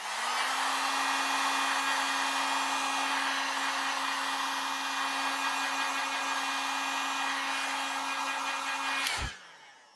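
A hair dryer blows steadily at close range to dry watercolour paint on paper, a loud continuous whir with a constant hum that holds for about nine seconds before switching off and winding down.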